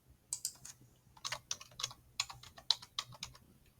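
A password is typed on a computer keyboard in a quick run of close, light key clicks with brief uneven pauses, alone in a quiet room.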